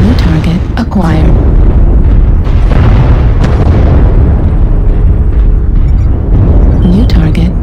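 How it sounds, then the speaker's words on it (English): Artillery strike explosions in the MechWarrior Online video game, loud, heavy booms and rumbling blasts that fill the soundscape continuously, with voices talking over them. "Artillery strike online."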